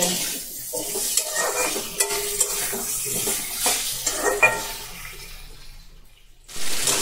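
Pumpkin and potato pieces fry with green chilli and whole-spice tempering in a pan, a steady close sizzle broken by clattering stirring and scraping, with no voices.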